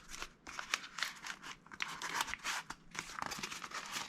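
Tape is pulled from the roll and torn off in quick crinkly rips to tape down armor pieces, a fast irregular series of close, faint ripping and crackling bursts.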